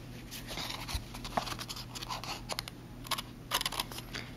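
Excess paper trimmed from a handmade grapefruit card with scissors or a knife and ruler: faint, quiet scraping and snipping strokes in a close, soft background, with no talking.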